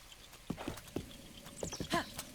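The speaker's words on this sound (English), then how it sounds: "my horse's name is Horsey" Horse hooves clip-clopping in the video game The Legend of Zelda: Breath of the Wild, a series of soft, uneven thuds at a walking pace over faint background sound.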